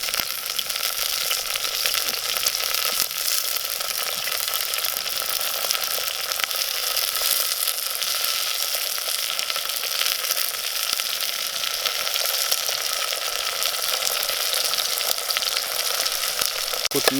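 Chopped tomato fries in a pan for a spicy village-style chicken rassa. A loud, dense sizzle runs unbroken for the whole stretch, with faint stirring and no talking.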